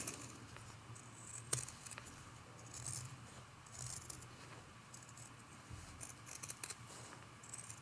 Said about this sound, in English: now we're just going to trim up this snowman